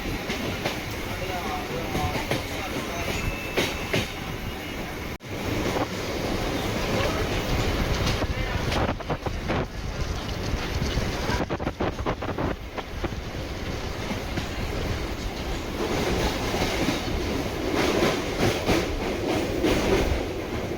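A Chennai suburban EMU train on its last night run from Beach to Tambaram rumbles loudly from onboard, with continuous rail noise, clickety-clack wheel rhythm and occasional metallic jolts.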